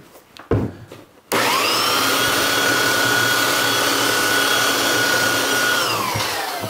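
A power sander works on a wooden cutting board, starting after a few knocks and handling noises with a loud, steady whirring hum that holds for several seconds before beginning to wind down.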